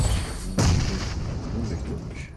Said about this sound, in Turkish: Bomba geliyor.